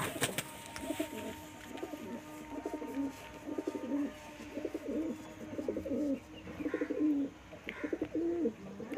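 Pigeons, Andhra Lalsira and Madrashi breeds, coo repeatedly in low, throaty, rolling bursts at close range, with a few faint chirps and light fluttering around them.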